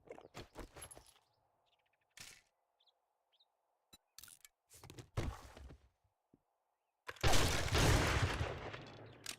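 Gunfire in the survival video game 7 Days to Die: loud broadband shots in short clusters, with quiet gaps and thumps between them, ending in a longer sustained burst of fire. No one talks.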